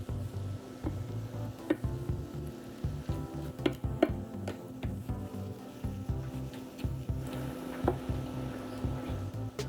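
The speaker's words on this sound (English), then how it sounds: "All right, we're browning our beef." Beef pieces browning in a hot pan for a stir fry, giving a steady close sizzle with scattered ticks and scrapes of meat being moved about, no talking.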